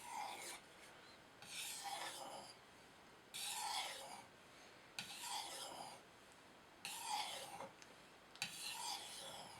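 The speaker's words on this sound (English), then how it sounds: "This is also a stone that Waco sent me. I don't know if you guys can see it, but it's definitely removing metal." An Esee 3 knife edge is freehand sharpened on a stone, giving quiet rasping strokes in a slow, regular rhythm, about six separate scrapes with short pauses between them.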